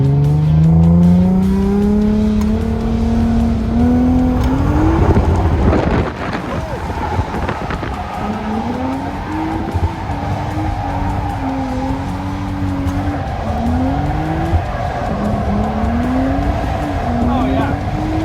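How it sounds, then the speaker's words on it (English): A Nissan Silvia 240SX drifts with its engine revving hard in repeated rising and falling surges, while loud tire squeal and skidding noise run continuously underneath. "I'm drifting."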